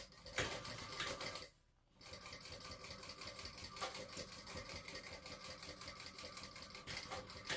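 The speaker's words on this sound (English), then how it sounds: "we're going to sew it at the seam allowance in the pattern" Sewing machine stitches binding strips onto a sling bag at the seam allowance, with a steady fast mechanical rattle that pauses briefly and then resumes, close and clear, with no voices.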